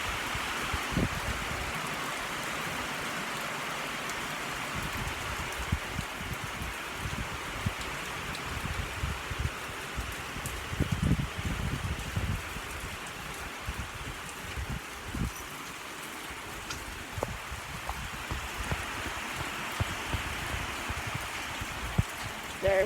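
Steady rain falls outdoors as a constant soft hiss with scattered drips and patters on surfaces, moderately loud and continuous throughout, with no talking.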